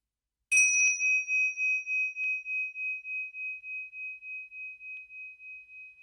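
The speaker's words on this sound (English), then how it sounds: "When you hear the bell, we can finish." A single strike of a meditation bell rings out clear and bright, then fades slowly with a gentle pulsing shimmer in near silence.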